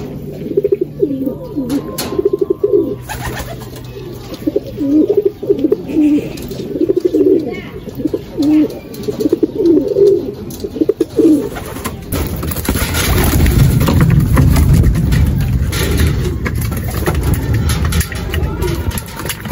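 Pigeons coo in a steady, overlapping chorus on a loft landing board, with a voice talking nearby. Around the midpoint the cooing gives way to a broad, louder rumble.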